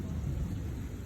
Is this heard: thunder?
yes